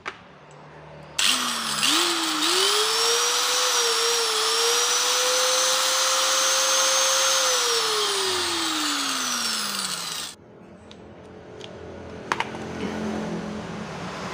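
A repaired SIM-100 electric angle grinder runs up to a loud, steady whine for about nine seconds, then winds down and stops, leaving faint room noise.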